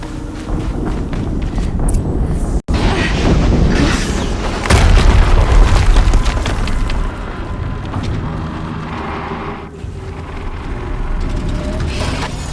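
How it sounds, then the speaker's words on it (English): An explosion in the video game Horizon Zero Dawn lands as a loud, heavy boom, followed by continued rumbling and clattering game action. "Another explosion."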